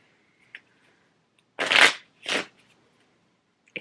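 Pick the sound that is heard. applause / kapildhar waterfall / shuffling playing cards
shuffling playing cards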